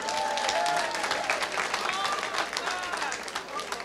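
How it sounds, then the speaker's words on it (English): A comedy club audience in Columbia, South Carolina, claps and cheers for the owner, with a brief burst of dense applause and a few whoops mixed in. "Y'all give him a nice round of applause."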